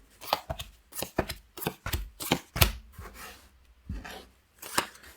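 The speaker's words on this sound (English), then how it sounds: "You'll then take the cards, you'll shuffle them" A deck of board game cards being shuffled, giving a rapid series of close, crisp riffling and tapping bursts with no talking.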